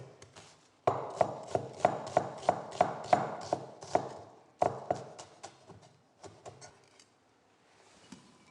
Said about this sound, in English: Roughly chop the onion.